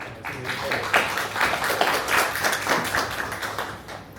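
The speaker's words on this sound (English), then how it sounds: "let's give a round of applause" A conference audience claps together in sustained, even applause, with no speech over it.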